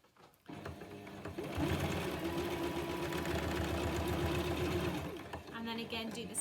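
A sewing machine runs steadily for several seconds on fabric for a reusable Christmas cracker, a loud close mechanical whir that starts after a brief pause and eases toward the end.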